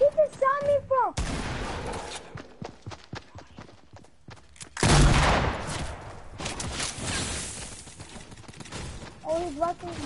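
Bursts of rapid gunfire in a PS4 shooter, one sharp volley early and a longer, louder barrage midway, trailing into scattered shots, with a player talking before and after.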